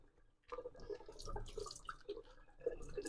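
Tap water running at a kitchen sink while vegetables are rinsed before cooking, a steady wash of flow with soft irregular drips and splashes, close and moderately quiet, with no talking.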